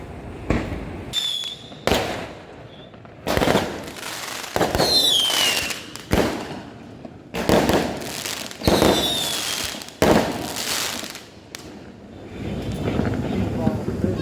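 Fireworks bursting at an Eid celebration in Malaysia, a series of loud, sharp booms and crackles with whistling rockets at irregular intervals, under wind noise on the microphone, with people talking in between.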